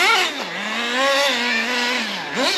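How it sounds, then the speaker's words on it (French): A race car engine misfiring out on a track: a loud, continuous engine drone whose pitch sags and climbs again in uneven surges, with no voices. "Ah, j'ai des ratés"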